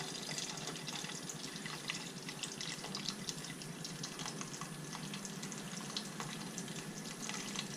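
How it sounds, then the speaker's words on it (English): Liquid pouring out of a cut coconut, a continuous trickling splash that runs steadily for several seconds, close and fairly quiet, with no talk over it. "flex the knife so that we can turn it up and pour all of the liquid right out of the coconut"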